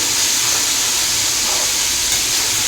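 Garlic paste sizzling in hot oil in a home kitchen pan, a loud continuous hissing fry that stays steady throughout, close up and without talking.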